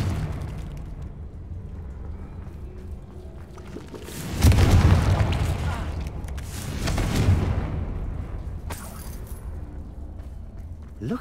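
A Confringo fire spell bursts in Hogwarts Legacy, a deep booming explosion that swells suddenly and rumbles for a few seconds, with a second surge shortly after, over a quiet game ambience.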